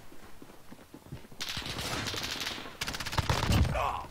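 First-person shooter gunfire from an MP7 submachine gun in Call of Duty: Modern Warfare, dense rapid bursts of automatic fire filling most of the clip after a quieter start, loud and close with game effects layered in.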